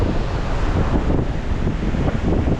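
Ocean surf pounding a shoreline during Typhoon Uwan, a dense, continuous roar of crashing waves mixed with heavy wind buffeting the microphone, loud and close, with no voices.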